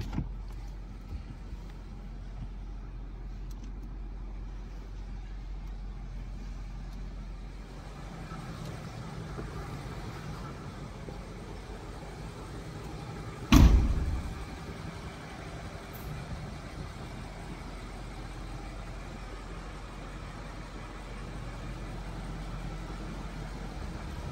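A 2021 BMW M850i xDrive Gran Coupe Golden Thunder edition, its engine running at a low, steady idle rumble heard from inside, broken once by a short, sharp thump midway.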